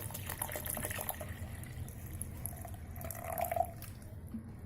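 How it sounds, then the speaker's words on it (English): Water poured by hand into a bin of onion peels, a soft steady liquid trickle and splash running throughout at close range, swelling briefly near the end. "pour some water here"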